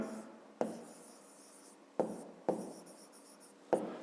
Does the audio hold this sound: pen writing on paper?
yes